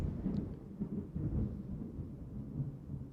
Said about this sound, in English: You hear the thunder outside?